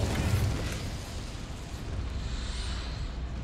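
Casting the Incendio fire spell in Hogwarts Legacy gives a deep booming burst that rolls into a roaring, crackling rumble. It stays loud and steady for a few seconds, with no voices.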